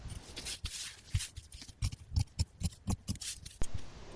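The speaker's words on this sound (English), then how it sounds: "you'll want to trim off the excess" Scissors snip through linen shirt fabric in a quick irregular series of close, crisp cuts, each blade closure distinct and fairly faint.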